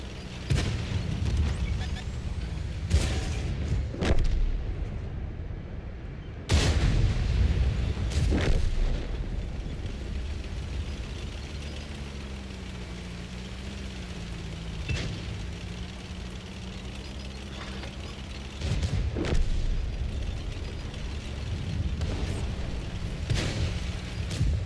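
Heavy tank cannon blasts in World of Tanks boom out one by one at irregular intervals, loud sharp reports over a low engine rumble, with people talking between shots.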